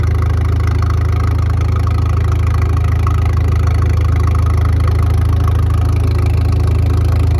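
John Deere tractor engine idling low at a steam show while crawling up a hill, a loud, steady, deep drone with continuous low pulsing and no talk over it.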